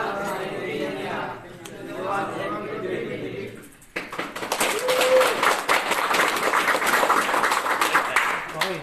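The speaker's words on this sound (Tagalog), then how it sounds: "Tapos palakpak." Construction workers applauding at the end of an earthquake drill. A muffled stretch of chatter gives way to a sudden, sustained burst of crowd clapping that fills the rest of the moment.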